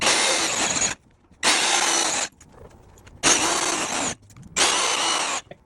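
Power tool driving 6-inch leg screws into a barnwood bed frame, four loud close bursts of whirring drive, each lasting about a second, separated by short pauses.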